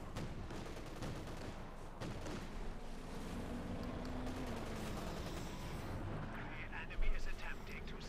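Dense, continuous battle noise from the World War II strategy game Company of Heroes 2: a German Ostwind's 37mm flak cannon and other gunfire crackling steadily. A sharper, louder burst lands near the seventh second.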